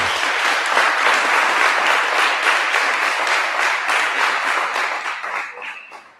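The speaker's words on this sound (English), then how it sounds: "Let's go give all these parents, families, and their villages a big round of applause." An audience at a music event gives a sustained round of applause for parents and families, a full steady wash of many hands clapping that tapers slightly toward the end.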